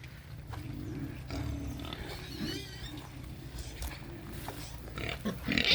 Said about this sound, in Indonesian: Jadi ini rumah untuk kandang babi.